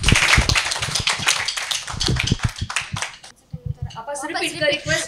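Scattered clapping from a small group after a correct quiz answer at a personality development session, a few seconds of fast claps that die away, then a voice speaks.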